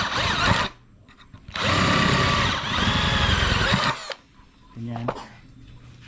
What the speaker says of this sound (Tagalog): susundan natin ng 916 or 716 rather na drill bit